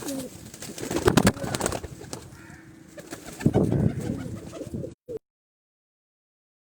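Gujrat pigeons coo in low, repeated burbling calls, fairly close, with soft rustling between them before the sound cuts off abruptly.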